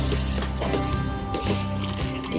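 Water poured into ground almond pulp while making badam sharbat, a close, continuous liquid pour with gurgling and trickling textures throughout.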